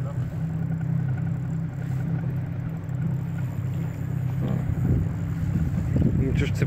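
A fishing boat's engine runs steadily on the open water during light-tackle tuna fishing, a continuous low drone with wind buffeting the microphone.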